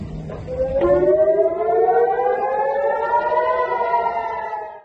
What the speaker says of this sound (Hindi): इसके बाद उस इलाके में सायरन बजने लगे।